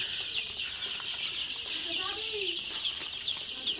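Sonali super hybrid chicks in a poultry shed housing about 1500 birds, a dense chorus of high peeping and clucking carrying on throughout, with a few lower calls sliding by midway.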